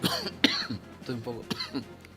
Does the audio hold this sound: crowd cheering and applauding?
no